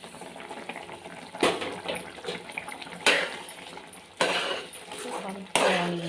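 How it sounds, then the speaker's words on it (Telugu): Water comes to a boil in a pan for upma, bubbling in the background while pots and utensils clatter with several sharp knocks and someone talks over it. "చూడండి మరుగుతుందండి."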